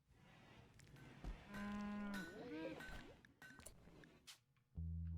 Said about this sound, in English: I mean, I assume it's a donkey.